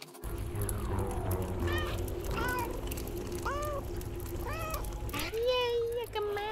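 Cat meows in the game Gori: Cuddly Carnage: a series of short, clear meows at an even pace, layered over a steady background of game music and ambience, ending with a longer, lower drawn-out mew.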